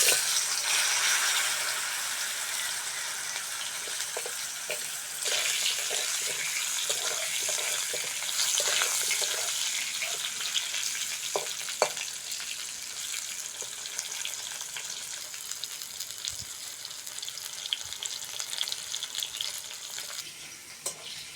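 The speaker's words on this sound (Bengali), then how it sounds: "আম ভালো করে ভেজে নিয়েছি" Green mango pieces fry in a pan for a Bengali sour fish curry, with dried red chillies in the tempering. A steady, loud, hissing sizzle runs throughout with small clinks and stirring, and no voices.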